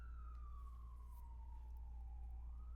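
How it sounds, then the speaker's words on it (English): Distant siren wailing in a single slowly falling tone over a heavy low hum, faint and steady under the background noise, with no voices. "holding for a siren,"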